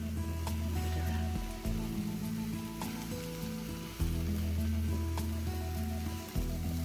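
Scrambled eggs sizzling in a pan while being gently stirred, a soft crackle over a low steady hum, with a few clicks and light scrapes of the utensil.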